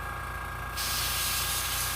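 Umber brown paint sprayed onto a Jason mask from a spray can, a close, steady hiss that starts abruptly partway through and holds loud and continuous to the end, over a constant low background hum.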